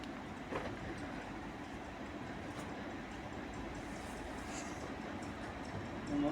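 A diesel train passes on an electrified line at a station, a steady low rumble and rolling rail noise, fairly distant and even, with faint clicks and a soft ringing ting from the overhead wires.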